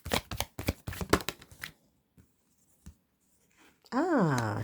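Tarot cards shuffled in quick riffling flicks and slaps, close and crisp, followed by a few soft isolated taps as cards are drawn; a voice then starts speaking.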